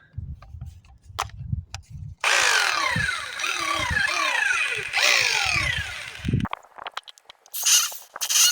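A hammer drill grinds loudly into the brick wall of a stove for about four seconds, stops, then briefly starts again, with quieter shuffling and handling noise around it.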